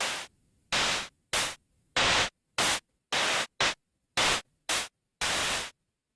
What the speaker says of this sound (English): try my white noise and then randomize the jump